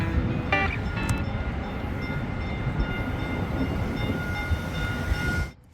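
A train pulls out of a San Francisco station with a loud, steady rumble and rolling rail noise, brief whistle-like tones near the start, before the sound cuts off at the end.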